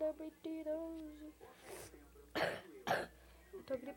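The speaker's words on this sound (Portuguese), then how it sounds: "Eu tô tossindo muito." Person with a bad flu coughing, a couple of harsh, close coughs following a short hum-like vocal sound, with no other activity around.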